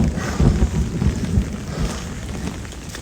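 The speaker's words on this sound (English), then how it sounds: "Loud thunder." Loud thunder rumbles through steady rain, booming low and close in rolling surges over a hiss of falling water and some wind buffeting the microphone.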